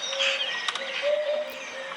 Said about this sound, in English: Do you hear the bird call?